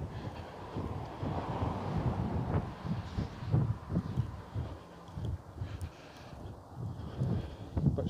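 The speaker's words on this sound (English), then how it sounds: "It's just difficult to talk in the wind." Wind gusts buffet the microphone during a barefoot trail walk, making a continuous low rumbling roar that swells and dips for the whole stretch. No one speaks.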